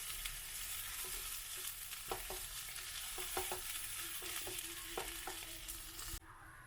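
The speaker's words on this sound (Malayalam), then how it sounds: "അപ്പോൾ നമുക്കിത് ഒന്നുകൂടെ ഒന്ന് ഇളക്കി ചേർത്തതിന് ശേഷം ഫ്ലെയിം ഓഫ് ചെയ്യാം." Beetroot and chickpea thoran being stirred in a pan, a steady sizzle with repeated spoon scrapes and clicks at irregular intervals, close and alone with no talk.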